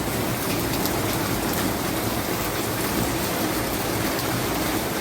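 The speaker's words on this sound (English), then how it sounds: "The rain didn't stop and on the weather app it's showing that it will be over by 6:30." Steady, dense rain falls continuously on a rainy morning, a close, even hiss with no let-up and no voices.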